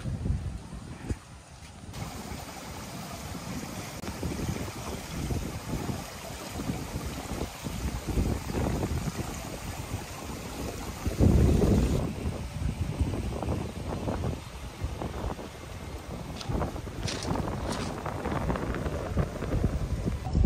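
Cool night wind on Chaweng beach, Koh Samui, rushes steadily as broadband noise and buffets the microphone, with a stronger gust midway and faint distant activity behind it.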